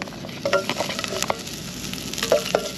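Garlic sizzles steadily in hot cooking oil, a continuous crackling fry close by with occasional stirring clinks and scrapes of a utensil against the pan.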